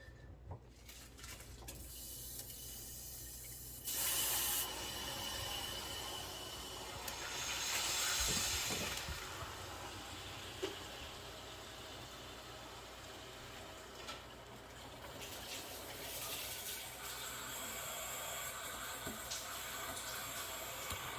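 Water starts running through a newly installed Sentry filtration system faucet after the supply valve is opened, a steady hissing flow with brief louder spurts as air purges from the line, continuing with no talk.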